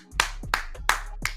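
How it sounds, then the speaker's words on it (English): Four sharp hand claps, evenly spaced and close up, ringing out alone with no voices. "Are you clapping?"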